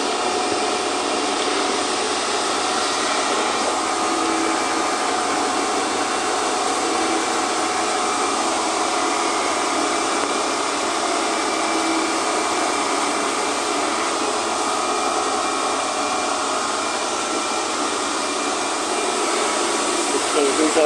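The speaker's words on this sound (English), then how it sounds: "Casey's over here putting his other bevel grind on" A belt grinder putting a bevel grind on a knife, a loud continuous whirring drone with steady texture throughout, close by, while people talk at times beneath it.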